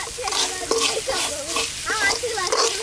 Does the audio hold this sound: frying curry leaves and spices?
yes